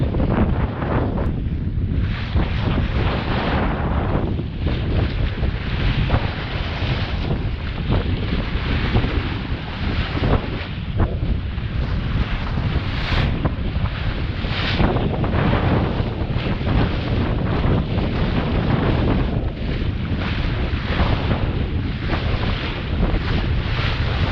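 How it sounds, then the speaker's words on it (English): Strong wind and rough waves batter a sailboat crossing the Bristol Channel, a constant loud roar with heavy wind buffeting on the microphone and no talking throughout. "It's very rough. The waves were just crashing over the boat."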